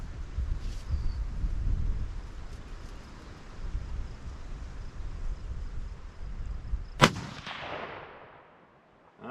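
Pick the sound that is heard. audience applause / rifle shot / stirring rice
rifle shot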